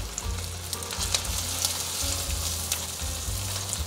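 Vegan sausage sears in a pot with a continuous close sizzle and crackle, occasional sharp spits rising above the steady frying.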